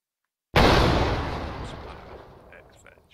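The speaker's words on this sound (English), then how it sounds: "I've made a throwable grenade that we can use to kill the veg. G to throw a frag." A frag grenade goes off in a video game after half a second of silence: one sudden, loud, booming blast whose rumbling tail slowly fades over the next few seconds.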